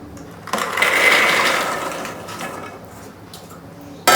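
Soaked black chickpeas, drained of their water, tumble into a pressure cooker in one close rattling pour lasting about a second and a half, then fade to a few light clinks and a final knock.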